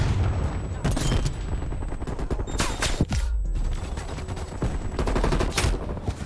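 Turret gunfire in the shooter game Black Ops Cold War: loud, close automatic bursts that recur through the scene, mixed with sharp booms.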